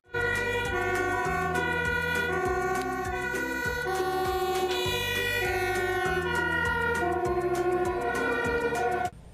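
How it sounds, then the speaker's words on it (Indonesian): A loud wailing fire truck siren cycles steadily up and down with a pulsing horn-like tone, continuous and close throughout. "ini adalah truk damkar"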